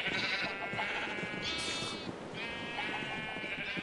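Sheep bleat in the video game Minecraft: a steady, nasal cry runs almost unbroken through the whole stretch, loud and close, with a second overlapping bleat in the middle and no talking.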